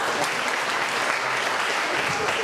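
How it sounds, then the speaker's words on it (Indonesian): A church congregation at a Sunday school testimony service applauds, a loud continuous wash of clapping from a roomful of people that holds steady throughout. "tepuk tangan untuk Tuhan"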